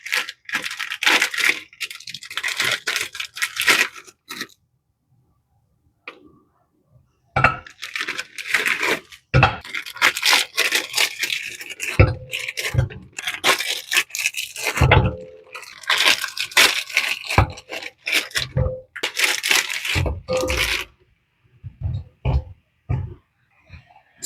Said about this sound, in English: I'm going to start by adding my spinach in a nice clean pot.